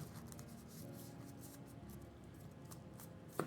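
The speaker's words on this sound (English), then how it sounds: "We're going to give these a good shuffle." Board game event cards being given a good shuffle on a table: soft, continuous papery rustling and riffling, fairly faint, with a slightly sharper card snap at the very end.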